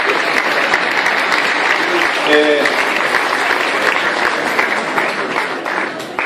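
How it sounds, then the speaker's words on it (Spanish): A steady, dense round of audience applause at an Amway financial talk for people giving up their seats, holding full and even throughout, with a brief voice in the middle. "Vamos a dar un aplauso a quienes están cediendo los puestos, por favor."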